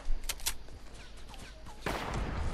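Video game gunfire in a multiplayer shooter on a mountain, with several sharp close shots early, then scattered crackling fire and a louder burst of rapid shots near the end, over a steady noisy background.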